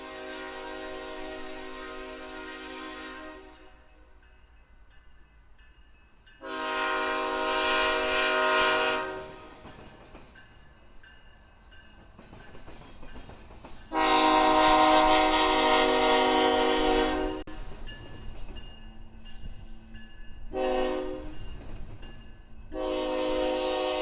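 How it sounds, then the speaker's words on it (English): A BNSF transfer train led by an ET44C4 locomotive passes at night, its loud horn sounding in several long blasts of varying length over a steady rumble of rolling wheels and engine. "on a late night, a BNSF transfer train approaches the camera, leading long hood forward."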